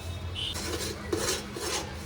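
A spoon stirs jaggery in a metal pan for puffed rice laddoo, giving soft scraping and light clinks in quick repeated strokes, faint and close, with no talking.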